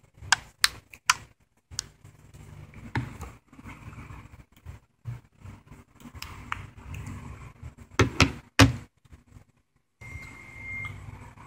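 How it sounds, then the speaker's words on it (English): The back cover of a Kyocera Hydro Life waterproof phone is clicked into place. Sharp plastic snaps come close and fairly quiet, some single and some in quick clusters, with short gaps between them and nothing else heard. "So to make sure that the phone's waterproof, you gotta click it a lot."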